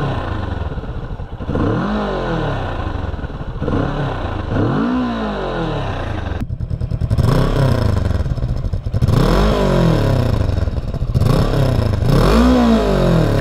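Kawasaki Vulcan 650 S motorcycle engine running nearby, revved repeatedly in rising and falling surges with a steady idle rumble between, loud and without speech.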